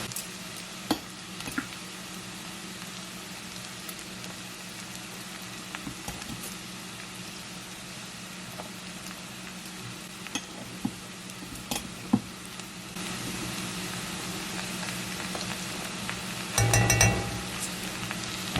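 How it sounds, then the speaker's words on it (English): Onions and flour for a baked mac and cheese sauce sizzle steadily in a pan as they are stirred, with a soft continuous hiss, occasional utensil clinks and a brief louder scrape near the end. "we're going to make sure we stir it in really well"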